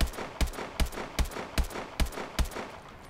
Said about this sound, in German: Wisst ihr, da kam sogar noch ein Schuss neben dir.